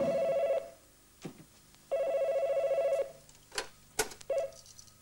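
An old telephone rings in two long electric bursts, then a few short clicks and knocks nearby, loud and close with no talk.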